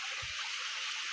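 Riverside water flows in a faint, steady wash of broadband hiss, with a soft low thump near the start and no voices.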